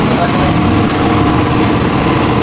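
A SYM motorcycle engine idles steadily at close range, a dense continuous mechanical drone that stays constant throughout.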